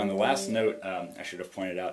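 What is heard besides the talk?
No everyday noise stands out behind the speech.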